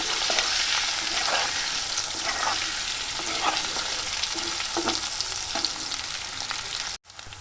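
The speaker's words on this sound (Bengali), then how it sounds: "হলুদ দিয়ে আমি ভালো করে আলুগুলোকে ভেজে নেব" Potato pieces with turmeric fry in hot oil in a pan, a steady close sizzle running throughout with occasional soft stirring scrapes and light crackles.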